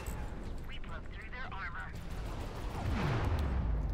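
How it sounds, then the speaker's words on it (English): Missiles launching and streaking off in the space battle game Fractured Space, with rumbling blasts and a descending whoosh under a voice talking. "We're going to go ahead and pop missiles at him."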